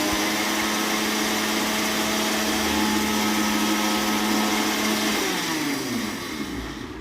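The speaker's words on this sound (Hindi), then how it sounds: "15-15 सेकंड 20 सेकंड इसको ना ब्लेंड करते जाएंगे" A blender whirs steadily and loudly while mixing homemade mayonnaise in a small kitchen, a continuous motor drone that slows and drops in pitch near the end as it winds down.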